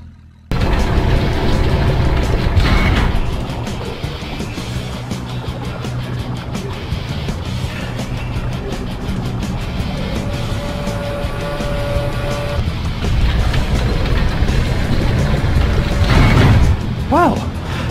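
A boat engine roars during a boat ride in a Flushed Away video game cutscene, a loud rumbling drone with splashing water and occasional booms, while characters talk over it.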